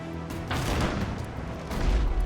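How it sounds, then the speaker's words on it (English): Ship cannons fire in the naval video game Abandon Ship, a dense run of booming blasts and crackling impacts that swells louder toward the end, with no voices. "We'll let the cannon fire, then we will repair."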